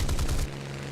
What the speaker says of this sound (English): Now I just fired one more burst on the enemy